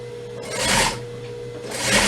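Sewing machine stitching an invisible zipper into a garment, a steady mechanical hum with two swelling bursts of faster running, close and moderately quiet.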